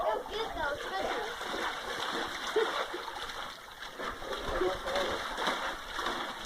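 Dog digging at the bottom of a pool, churning water into continuous splashing and sloshing, with people talking over it.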